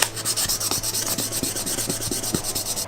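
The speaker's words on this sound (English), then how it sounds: "Responds kind of well to the file." Steel file rasping back and forth across a rubber blaster prop, a Merr Sonn Power 5, in a steady run of close, scratchy strokes with no talking.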